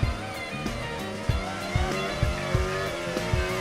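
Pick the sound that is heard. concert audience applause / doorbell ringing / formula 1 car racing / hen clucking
formula 1 car racing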